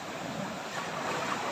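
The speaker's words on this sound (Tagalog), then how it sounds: "Kaya lumakas yung dagat dito." Rough sea after a passing typhoon, waves washing against the shore in a steady, continuous roar with wind noise, fairly distant and even in level, no voices.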